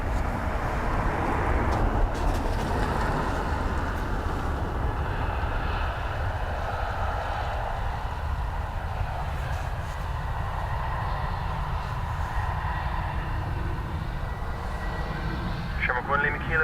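An arriving aircraft at Dublin Airport gives a sustained broad jet roar from a distance. Someone talks over it throughout.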